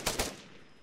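Two quick gunshots ring out close together, fired as a signal to alert people in Arma 3, each with a short reverberant tail that fades into a quiet background.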